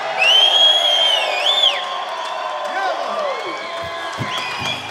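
Concert crowd at an outdoor amphitheater show claps, cheers and whoops loudly, with high whistles riding over steady applause that stays strong then eases slightly.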